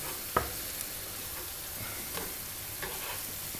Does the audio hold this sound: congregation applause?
no